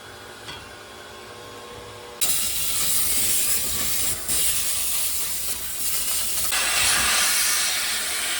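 Compressed air blasts in a loud, steady hiss to blow dust off the fan and filter of an Elkay drinking fountain, starting abruptly after a quieter hum and continuing without talk.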